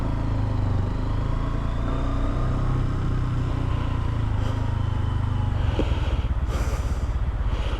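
Sinnis Outlaw motorcycle ridden on a road, its engine a steady low drone that holds at a constant loudness throughout, with rushing wind and road noise over it and no voices.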